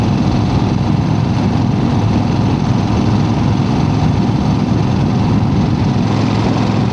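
A 1975 Harley-Davidson XLCH motorcycle engine runs steadily and loud up close, a continuous low rumble that holds even for the whole stretch with no voices over it.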